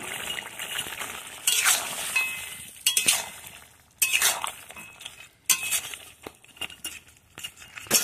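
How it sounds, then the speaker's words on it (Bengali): Fried small river fish are stirred in a pan in bursts of scraping and clinking utensil strokes over an ongoing sizzle, with short pauses between strokes. "তো দেখো এবারে কি ভেজে রাখা মাছগুলো দিয়ে দেবো। তো হালকা করে কি নেড়ে নেব।"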